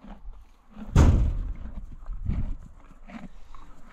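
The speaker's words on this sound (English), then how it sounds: "Horses are a huge thing here in Wyoming." Horse hooves in Cody, Wyoming, with one loud heavy thud followed by softer uneven clops and knocks nearby against faint outdoor background noise.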